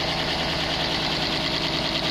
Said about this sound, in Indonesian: Grand Max pincang nggak terlalu terlihat, cuman mesin ya terasa goyang.